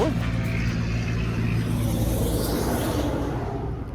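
A truck drives past close by, a loud, steady engine rumble with broadband road noise that holds for about four seconds and eases slightly at the end.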